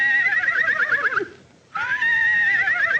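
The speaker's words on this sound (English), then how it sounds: "Sounds like a horse laughing." A horse whinnies loudly, a long shaky neigh, then breaks off briefly before a second drawn-out whinny.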